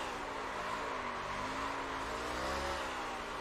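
Race car engine in iRacing during donuts, a steady, droning motor whose pitch wavers and bends as the car spins, with tyre noise underneath, continuous and moderately quiet throughout.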